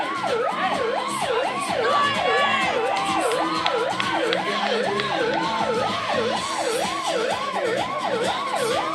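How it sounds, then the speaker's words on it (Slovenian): Wailing sirens at a firefighting competition rise and fall in a steady, fast cycle, loud and continuous throughout, with a second siren tone layered over crowd and outdoor noise. "Domače sirene kličajo po intervenciji"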